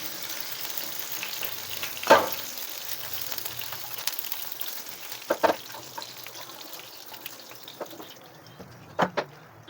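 Pieces of Dhakai katla fish fry in oil with a steady crackling sizzle, punctuated by a few louder spits and pops as the fish is moved, with no talking.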